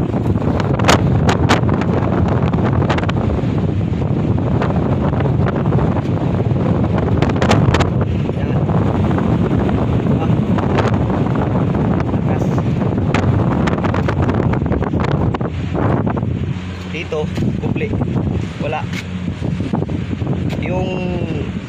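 Strong wind roars and buffets without pause, easing slightly near the end before gusting again.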